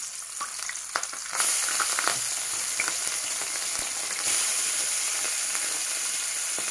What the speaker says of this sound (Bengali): তেল গরম হয়ে গেছে, আমি বাটা মাছটাকে প্রথমে ভেজে নিই।